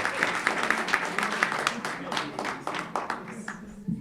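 An audience at a talk applauds steadily, with a thick wash of clapping and some individually distinct claps rising through it. Mixed crowd noise and a voice can be heard underneath.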